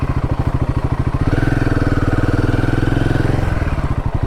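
A motorcycle engine idles close by, then revs up into a steady, throbbing drone before easing back toward idle at a roadside stop near Dalim Fort in the Dooars.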